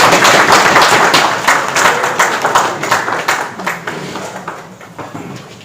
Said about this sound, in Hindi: यानी तो भरपूर तालियां होनी चाहिए आज के दुल्हे के लिए।